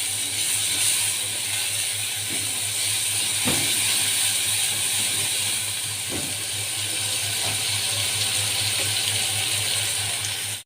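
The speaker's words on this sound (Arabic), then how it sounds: "طبعا بنقعد نحمر في البصلايه عشان رز الصياديه طبعا بيكون بني" Onion frying in a pan until browned for brown sayadiyah rice, a continuous loud hiss of hot oil with occasional faint clicks and scrapes.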